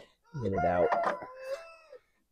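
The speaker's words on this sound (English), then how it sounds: "Excuse the rooster. He's got quite a bit to say today," A rooster crows loudly and close by in a long drawn-out call while a person says a few words over it, during repair work on a 1943 Farmall H tractor.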